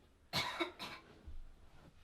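Two quick coughs close together, near and fairly loud, followed by a softer low rumble.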